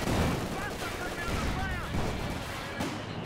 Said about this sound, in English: Sniper just evaded that P4 shot there.